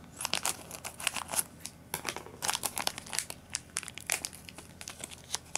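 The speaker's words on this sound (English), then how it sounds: "I'm gonna need scissors for this." Close, crisp plastic crinkling and snipping as scissors cut open a trading card pack wrapper, in quick irregular bursts.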